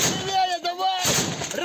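A Ukrainian soldier fires a machine gun toward Russian positions near Bakhmut in the Ukraine war, loud close bursts of gunfire with a brief pause in the middle, shots ringing out and echoing.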